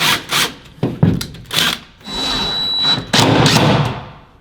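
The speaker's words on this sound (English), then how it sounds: "That drill out back, we can just use that and just drill a little bit" A power drill drives screws into wood in short bursts, then runs steadily with a high whine and grinding, close by.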